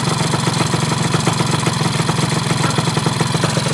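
A 2014 Honda Dio scooter engine with an air leak runs close and loud, a rough, rapid pulsing putter with clattery ticking over a steady low drone, unbroken throughout with no voices.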